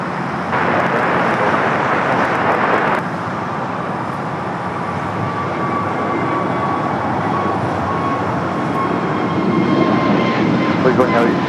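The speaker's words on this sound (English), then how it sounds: "the Dreamliner touching down here on the south side. 787-9 Dreamliner coming from Mexico City." A Boeing 787-9 Dreamliner from Mexico City touches down on the south side runway at LAX, its broad engine roar steady and loud throughout, with a brief brighter surge early on and voices talking over it.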